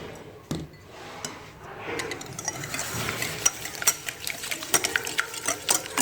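Eggs and sugar being mixed in a bowl for waffle batter: a steady run of scraping, clinking stirring strokes that grow busier and sharper toward the end, close and moderately loud with no talking.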